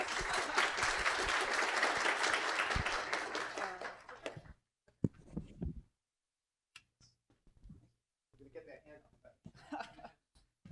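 Audience applause at a startup school introduction lecture, dense and steady for about four seconds before fading out, followed by scattered talk and light laughter.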